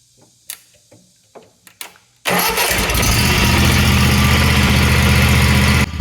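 A zero-turn mower engine is started by jumping its starter solenoid: a few sharp clicks and taps, then the engine abruptly catches and runs loud and steady close by.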